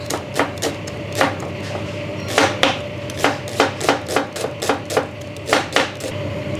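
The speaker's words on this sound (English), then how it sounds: "And then we slice shallot." A knife slicing shallots on a cutting board in a Thai home kitchen, a run of crisp, close knocks in an uneven rhythm, some quick pairs and some spaced, over a steady faint hum.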